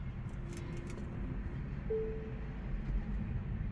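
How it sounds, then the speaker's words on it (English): Tesla Model 3 rental car giving a single soft, short chime as a traffic light turns green, heard from inside the cabin over low road and engine rumble. "when this one turns green, the car makes a little doorbell noise"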